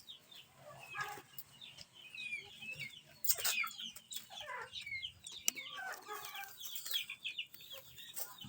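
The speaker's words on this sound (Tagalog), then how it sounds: "May mga alagang manok dito si kasamahan ko." Hens cluck and murmur in short, scattered bursts, with a few sharper squawks, fairly close against quiet outdoor background.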